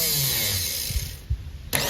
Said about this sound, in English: You energize it, it pulls back, the gear grips onto the teeth of the flywheel, starts the engine, pops back out again